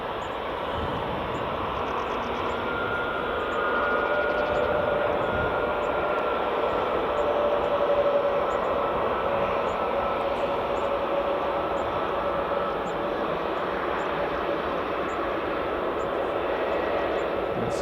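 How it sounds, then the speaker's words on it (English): Aegean A320neo airliner taxiing at Edinburgh Airport in the early morning, a steady loud engine whine and rumble held for the whole stretch, fairly close and unbroken, with no talking. "A320 and Aegean A320 Neo taxiing."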